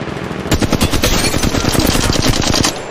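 Rapid automatic gunfire from a weapon in the battle royale game Apex Legends Mobile rattles out in a loud, dense burst of closely spaced shots for nearly three seconds, then stops abruptly.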